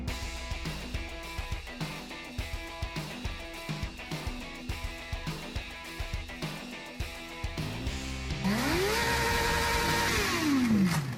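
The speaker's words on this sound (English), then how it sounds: "Celebrating motorcycles and making noise" Motorcycle engines at a bike night blare amid loud rhythmic music, then an engine revs hard with a rising and falling whine near the end, close and loud.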